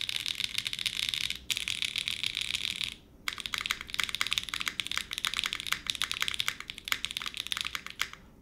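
Rapid, continuous typing on a mechanical keyboard with an aluminum plate, crisp, bright clacks and a brief pause partway through; no one speaks.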